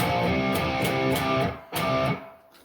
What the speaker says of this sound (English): And then distortion really kicks in here.